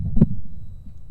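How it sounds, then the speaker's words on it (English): A monster heartbeat sound effect from the PowerDirector library gives one heavy, deep thump over a low rumbling drone that carries on to the end. "Let's try monster heartbeat."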